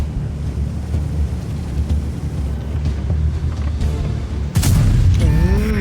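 A tank cannon fires in World of Tanks: a single loud, sudden boom breaks through a low rumbling engine and wind drone, followed by a ringing tail.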